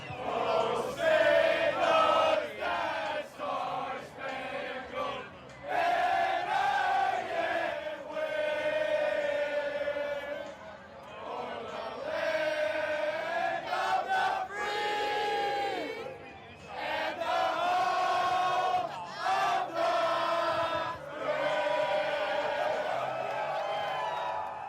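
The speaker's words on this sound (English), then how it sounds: "I caught some youngins singing the national anthem at the top of their lungs" A group of children sings the national anthem at the top of their lungs in an outdoor crowd, loud sustained chanted phrases with brief pauses between lines, close and spirited.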